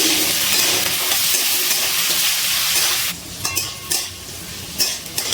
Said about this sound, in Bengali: এবার বিনস আর গাজর একটু ভালো করে ভেজে নিচ্ছি